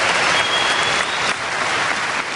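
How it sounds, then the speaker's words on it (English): Live audience applause at a lecture, a loud, continuous roar of many hands clapping that fills the whole stretch with a slight dip midway. "You clap, you're awake."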